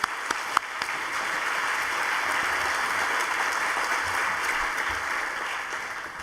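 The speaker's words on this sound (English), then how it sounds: "we owe him a big round of applause, him and his team" Steady, dense applause from a large audience at a science and diplomacy symposium fills a hall, sounding as a continuous wash of many hands clapping at an even level for several seconds.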